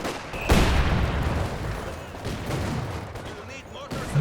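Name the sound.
Vickers machine gun firing in the Company of Heroes 2 video game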